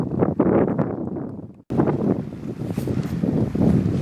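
Strong wind gusting over a lake on a solo canoe trip, a loud steady roar buffeting the microphone, broken by a brief drop to near silence before the rush resumes.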